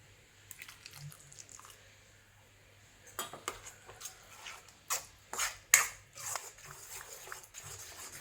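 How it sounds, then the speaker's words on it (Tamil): Almond halwa made with a little milk being stirred in a pan over medium flame, giving soft scraping and utensil clinks that grow louder in the second half, with a few sharp knocks against the pan. "இது பாதாம் அடி பிடிக்கும், அதனால நம்ம இதை கிளறி கொடுத்துட்டே இருக்கணும்"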